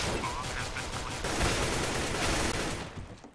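Rapid gunfire in a Counter-Strike esports match, a dense sustained burst of rifle shots with grenade-like bangs, continuous and loud through most of the moment, mixed with a commentator talking over the action.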